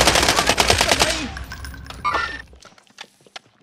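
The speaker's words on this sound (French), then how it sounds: "Je me fais tirer dessus." Video game gunfire aimed at the player, rapid loud bursts of close automatic shots that taper off into a few scattered clicks and clatters.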